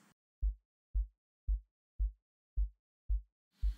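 A sub oscillator gated by a kick-drum sidechain, producing seven deep, punchy low-end thumps at a steady pulse, each cutting off quickly into silence, loud and alone.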